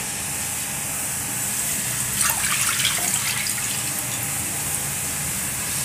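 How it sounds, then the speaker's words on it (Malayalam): Two cups of milk pour into a kadai set on a gas stove. A short liquid splash and gush rises over steady background noise near the middle, close by, with no talking. "ഇതിലേക്ക് നമുക്ക് രണ്ട് കപ്പ് പാൽ ഒഴിക്കാം"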